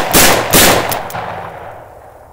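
A Taurus eight-shot .357 Magnum revolver fired outdoors on a ranch: two sharp, loud cracks in quick succession, followed by fainter metallic clicks and a fading echo.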